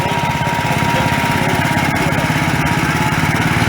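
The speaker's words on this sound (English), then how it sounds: "1960 Sears Suburban, Gordon Beretta from Ellsworth." A 1960 Sears Suburban garden tractor, pulling a tiny manure spreader, chugs past in an old engine show parade, its small engine putting out a loud, steady, rapid putter close by with no talk.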